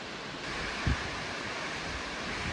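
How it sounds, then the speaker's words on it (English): A waterfall on a hiking trail gives a faint, steady rush of falling water from a distance. The wash is uneven and carries on without a break, with no speech. "it is kind of cool to watch the water cascade"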